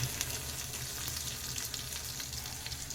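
Coconut pieces fry in hot oil with lentils for a coriander chutney, giving a steady, close crackling sizzle with small pops and light stirring throughout, with no voices.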